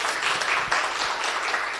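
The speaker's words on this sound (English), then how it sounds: "Another round of applause for Martin" Audience at a fintech breakfast event applauding, a dense, steady wash of many hands clapping from a room-sized crowd, moderately loud and continuous throughout.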